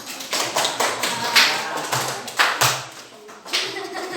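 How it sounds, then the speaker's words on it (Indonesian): Classroom applause after a student group's presentation: a short burst of claps and taps from a small group, fairly close and uneven, fading toward the end. "Tepuk tangan."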